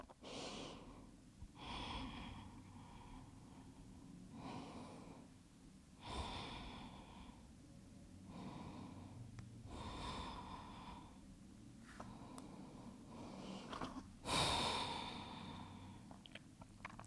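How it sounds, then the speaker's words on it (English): Slow, deep breathing during a yoga stretch for the splits, with long audible inhales and exhales repeating steadily at close range, heard alone and without talk. "Five more breaths here."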